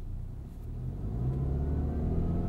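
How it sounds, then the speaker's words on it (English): The boxer engine of a 2022 Subaru Outback Wilderness rumbles back to life via stop-start at a traffic light, a low steady hum that swells slightly, heard from inside the cabin. "We'll show you what stop-start sounds like"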